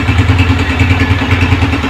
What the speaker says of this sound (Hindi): बिल्कुल सुने ये इंजन का साउंड है इसका